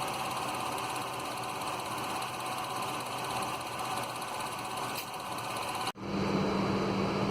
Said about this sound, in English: The vehicle is turned on.